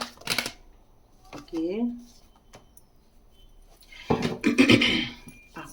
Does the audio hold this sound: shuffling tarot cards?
yes